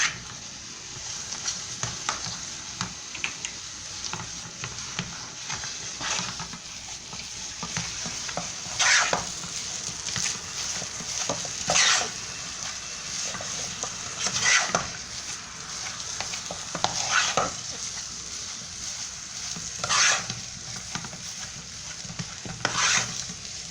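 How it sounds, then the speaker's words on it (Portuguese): Churros dough of wheat flour being stirred in a pan on the stove, with steady scraping strokes and soft sizzling throughout and sharper scrapes recurring every few seconds; no talking. "Você vai dissolvendo e mexendo até a farinha de trigo dar uma cozinhadinha."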